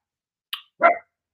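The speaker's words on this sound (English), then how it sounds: "Even your dog is upset." A dog gives two short, sharp barks close by in a quiet room, a brief yip followed by a fuller bark, then silence.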